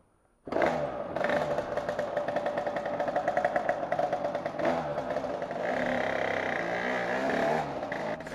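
Engine drone and wind roar from a motorcycle ridden gently on a warm day, starting abruptly after a short quiet moment and holding steady and loud, with slight rises in revs and no talking.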